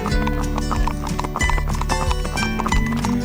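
Hooves clip-clopping in a steady walking rhythm, close by, with a horse's whinny and tonal background sound mixed in, during a horse ride in Normandy.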